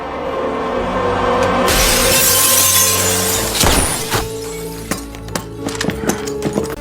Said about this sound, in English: Sweat smashes the window and shoots him dead